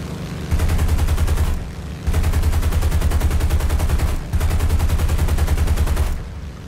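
P-47 Thunderbolt machine guns hammer out three long, loud bursts of rapid fire in a War Thunder air battle, each sustained stream broken by brief pauses, with heavy engine drone beneath.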